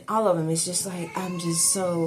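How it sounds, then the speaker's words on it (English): A pet cat meows a few times, brief and close, mixed in with someone talking. "excuse my cat"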